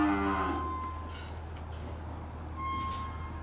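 A Brahman heifer lets out a deep, drawn-out moo on a cattle farm, loud and close at the start, then fades into low background hum and quieter lowing.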